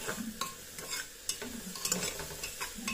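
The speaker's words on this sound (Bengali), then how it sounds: "সবজিগুলোকে ভালো করে ভাজবো ডালটা দিয়ে।" Vegetables and lentils stir-fried in a pan for a baby's sago khichdi, with a soft steady sizzle under repeated scraping strokes of a spatula close by.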